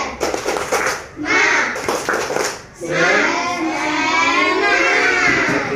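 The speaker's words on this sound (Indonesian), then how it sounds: "Semuanya tepuk semangat." Schoolchildren in a Quran reading class perform a rhythmic spirit clap, with loud group chanting voices that largely bury sharp, patterned hand claps, mostly in the first half.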